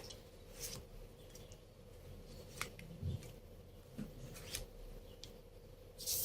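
Soft, faint card slides and light clicks scattered over a steady low hum as a deck of tarot cards is spread across a table, close and without speech.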